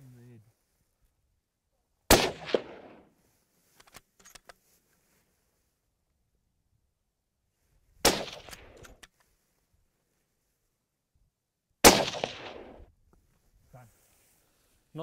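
Three sharp rifle shots fired while hunting mountain reedbuck on a South African hillside, each a loud crack with a brief rolling echo, spaced several seconds apart amid near silence and a few faint clicks.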